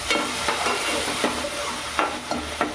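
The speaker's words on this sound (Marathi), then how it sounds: "या दोन्ही पेस्ट आपल्याला शिजवून घ्यायचे आहेत व्यवस्थित" Tomato paste and onion masala paste frying in a pan, a steady close sizzle with repeated scraping stirs of a spoon against the pan, no voices.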